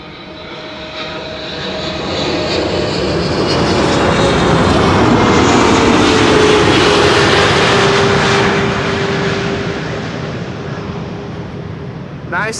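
A Cargolux Boeing 747 cargo jet lands at Amsterdam Schiphol, its engine roar building from a distant rumble to a loud, broad wash that peaks mid-pass, with a steady whining tone running underneath, then slowly fades.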